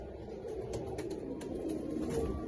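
A Ferozpuri pigeon of old pure breed coos softly in low, steady murmurs that run through the whole stretch, close by with a faint background hiss and no voices.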